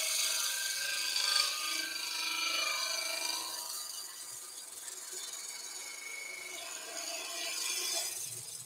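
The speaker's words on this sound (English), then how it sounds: "Now let me do one clean cut first." A skew chisel makes a clean shaving cut on wood, giving a steady, close, airy scraping hiss that swells and eases over several seconds, with no voices.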